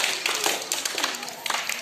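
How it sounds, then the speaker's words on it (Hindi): A few hands clap together in quick bursts of sharp, close claps, a short round of applause for a child answering quiz questions. "ताली बजाइए भाई, शाबाश"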